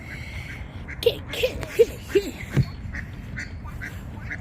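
Ducks quacking at a pond in a nature park, a handful of short quacks spaced about half a second apart over a steady outdoor background, with a brief spoken word mixed in.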